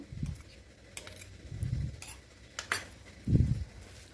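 Metal spoon clinks and scrapes against a pot while masala is stirred into Khandeshi kadhi, a few sharp taps spread through the clip with soft low thuds between them, fairly quiet and without talk.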